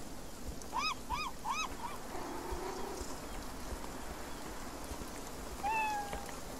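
Cat meowing in the video game Beyond Eyes: three quick, evenly spaced meows, then a longer drawn-out meow near the end, heard against a steady soft ambient wash of rain and outdoor noise.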